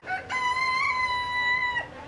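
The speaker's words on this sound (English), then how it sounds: "Tomorrow, judges will crown the rooster that crows the most within a certain amount of time." A rooster in the poultry barn at a fair gives one loud, close crow that holds a sustained tone for over a second before trailing off, with no other sound.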